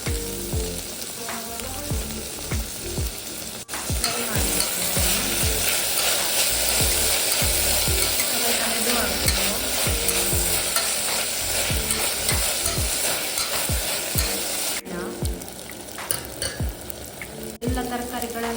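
Tomatoes sizzle and fry in a hot pan for veg pulao, with a steady loud crackle and repeated scraping stir strokes throughout, a brief quieter moment near the end before stirring resumes.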